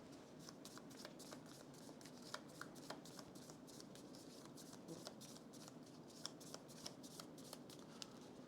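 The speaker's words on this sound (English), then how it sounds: "we also are going to shuffle this deck" A deck of cards being shuffled by hand at a tabletop board game session, a steady run of quick riffling snaps and flutters, close and fairly quiet, with no talking.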